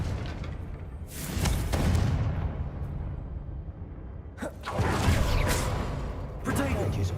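Fiery Confringo blast spells cast in Hogwarts Legacy, heard as several whooshing bursts with booming impacts, two big hits separated by a lull, set against ongoing game effects and ambience.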